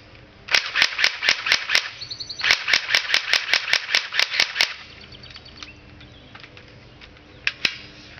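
A Crosman R71 airsoft gun fires on semi-auto, with two runs of evenly spaced sharp snapping shots, each about a dozen rounds, then quieter mechanical handling and a couple of final isolated clicks.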